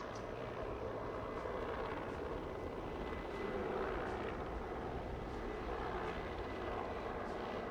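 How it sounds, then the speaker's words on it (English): Steady, loud rotor and engine roar of a helicopter passing over in SnowRunner on the Imandra map, holding level throughout with no talk. "With the helicopter going over."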